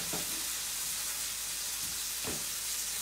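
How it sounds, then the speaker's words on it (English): Steady loud sizzling of steak frying in a pan for a Tuscan steak dish, with a couple of soft stirring scrapes over the continuous hiss. "You see it's starting to fry."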